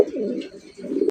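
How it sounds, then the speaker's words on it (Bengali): Racer pigeons at a small pigeon farm coo softly and close by in a low, rolling, throaty call, twice in quick succession. "রেসার কবুতর দেখতেই পাচ্ছেন"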